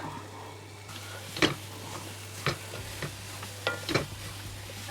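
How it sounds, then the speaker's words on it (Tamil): Cabbage and chillies with turmeric and salt being sautéed in a pan: a few sparse spatula stirs and clinks over a faint background sizzle and a steady low hum, with no talking. "இந்த கட் பண்ணி வச்சுருந்த மிளகாய், கோவா எல்லாத்தையும் போட்டு லைட்டாக மஞ்சள் போட்டு உப்பு போட்டு வதக்குவோம்"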